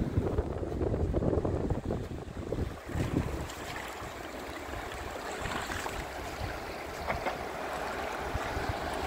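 Steady wind rushing past the microphone aboard a Sunbird 25 sailboat moving with the current, a continuous loud roar with water wash beneath it and no talking.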